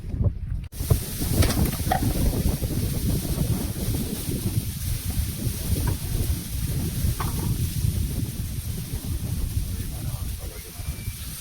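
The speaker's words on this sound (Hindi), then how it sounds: "बहुत भयंकर ठंडी हवा चल रही है।" A strong, bitterly cold wind blows steadily across an outdoor spot, roaring and buffeting the microphone in a low, constant rumble for the whole stretch.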